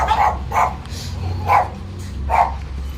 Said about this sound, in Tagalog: yan ang tatapang ng mga aso dito eh.